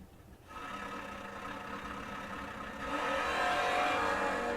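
A Plymouth Roadrunner and a Chevelle wagon drag race, their engines a continuous roaring whine that swells in loudness and pitch after a few seconds as the cars accelerate, with no voices.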